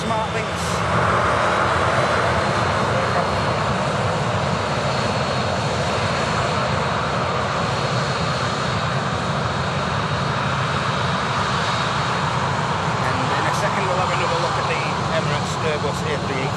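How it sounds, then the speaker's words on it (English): A TUI Boeing 737 MAX airliner landing at Manchester Airport gives a loud, continuous engine roar that stays steady and close the whole time, with a voice talking over it. "just while the next arrival lands at Manchester, which is a TUI"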